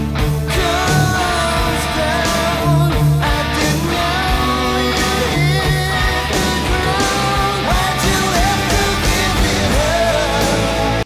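Loud, sustained electric guitar plays the pre-chorus of a song, strummed chords and a melodic line ringing continuously without pause.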